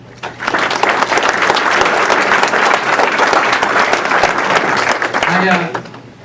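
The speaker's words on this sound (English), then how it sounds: "Much applause to you." Dense, loud applause from a large crowd at a 2014 celebrity reception honoring baseball figures, filling the room steadily for about five seconds before tapering off at the end.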